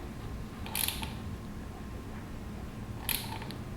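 Tightening a NiceCNC fork extender on a KTM 390 Adventure fork leg produces two short, crisp mechanical clicks, one near the start and one near the end, close by against a quiet background.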